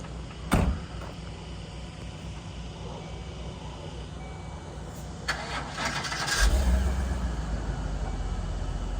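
The engine of a 2008 Chevrolet C4500 bucket truck starts: a click and a short thump, then cranking that catches into a low, steady diesel idle rumble growing louder at close range.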